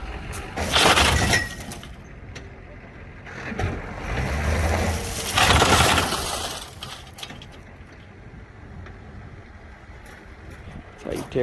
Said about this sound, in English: How you tear a damn bumper off.